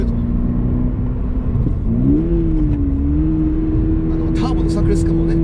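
Subaru BRZ with a manual gearbox and naturally aspirated engine climbs a mountain road, its steady engine drone rising in pitch through a gear, with someone talking over it throughout.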